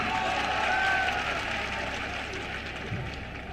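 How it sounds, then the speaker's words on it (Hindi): A crowd claps at an ITBP camp inauguration in Chhapra, Bihar, a fairly soft, even patter of applause lasting a few seconds with no voices over it. "लेकिन ताली जितनी तेज होनी चाहिए तो कुछ कम है।"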